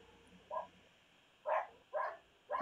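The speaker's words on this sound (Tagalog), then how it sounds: "Ang ingay ng aso." A dog barks four times at a moderate distance, short sharp yaps spaced unevenly, with quiet in between.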